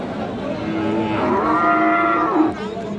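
A heifer at the Aftabganj cattle market, where Friesian and crossbred heifer calves are sold, lets out one long, loud, nearby moo lasting over a second.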